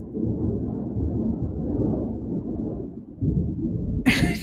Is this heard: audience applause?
no